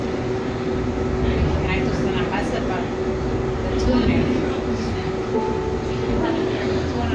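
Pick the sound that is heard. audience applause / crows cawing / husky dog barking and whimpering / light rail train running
light rail train running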